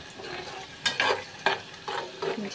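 Onion, garlic and ginger fry in hot oil for a tadka for sarson ka saag, a soft sizzle broken by several short scraping stirs of a spoon in the pan, with no talking.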